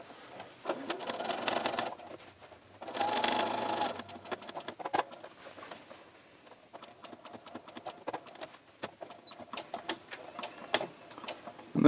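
Sewing machine top-stitching around a welt pocket runs in two short, steady bursts, then settles into scattered mechanical ticks and clicks as the needle and presser foot are repositioned.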